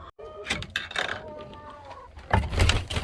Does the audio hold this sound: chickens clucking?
yes